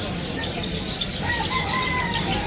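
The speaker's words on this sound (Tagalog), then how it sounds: "Medyo marami tayong dalang ibon ngayon." Many caged birds at a busy Malabon pet market squawk and chirp in a steady, dense chorus, with thin high calls rising over constant crowd and market background noise.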